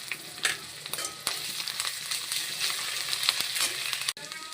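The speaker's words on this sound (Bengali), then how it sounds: "রসুনটা ভাজা ভাজা হয়ে গেছে" Garlic paste fries in hot oil in a Bengali kitchen while a fish curry is being cooked, giving a steady close sizzle with occasional stirring scrapes and no speech.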